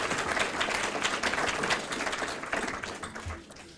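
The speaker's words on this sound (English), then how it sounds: "Let's give them all a round of applause." Audience applause at a regional off-track betting corporation's mid-year financial report meeting, a steady wash of many hands clapping that fills the room for several seconds before tapering off near the end.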